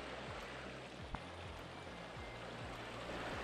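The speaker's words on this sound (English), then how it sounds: "Here it is, headwaters of the Rio Grande." Rio Grande headwaters stream in the Colorado mountains, running as a steady, close broadband rush of flowing water with low thumps mixed in, continuous and without talk.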